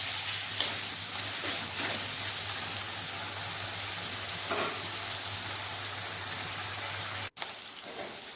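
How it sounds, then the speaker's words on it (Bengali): Onions with a green chili fry in fish oil in a pan, a steady close sizzle with soft crackles throughout and a low constant hum underneath. "এই দেখুন কি সুন্দর পেঁয়াজগুলো ভাজা হয়ে গেছে প্রায়"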